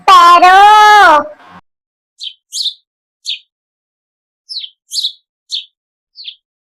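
A sparrow chirps in short, bright bursts, about eight quick tweets spaced irregularly, loud and clear after a sustained sung voice at the start.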